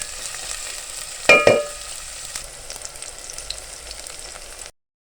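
Chopped onion fries in a pan for a potato and egg curry, a steady close sizzle with a couple of sharp clanks of a utensil stirring early on, then continued hissing.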